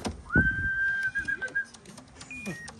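Pigeons at a loft give soft, low cooing calls near the mic, while a long, clear whistle sounds at intervals, with short chirps and rustling in between.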